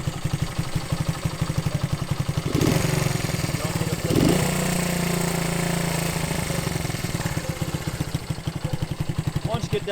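A 1971 Honda CB100 motorcycle engine idles after a cold start, a steady close-up putter with brief revving swells and clattery mechanical pulses throughout.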